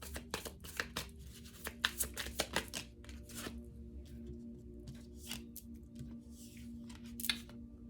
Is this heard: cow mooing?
no